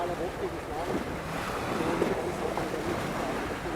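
Sea water sloshing and splashing against harbour rocks at Port d'Andratx, Mallorca, a steady broadband wash with wind noise over the microphone, close and continuous throughout.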